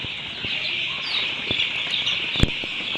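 Chicks on a poultry farm peep and chirp in a steady, dense chorus, with a few sharper clucks and brief flutters standing out now and then.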